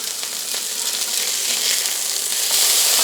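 Beef patties sizzle loudly in a frying pan just after being flipped, a dense, steady crackle that swells slightly toward the end, with no talking.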